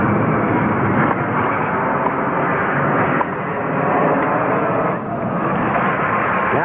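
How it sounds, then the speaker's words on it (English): Airplanes fly low over the 1972 US Open tennis match, and a loud, unbroken engine roar fills the whole stretch, drowning out the court. "the airplanes are coming so close or disturbing him, he can hardly hear himself think"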